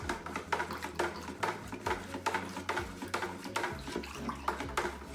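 Plastic spoon stirring pickles soaked in lime water inside a bucket, a steady run of sloshing swishes and soft scrapes against the bucket's sides, close and continuous with no talk.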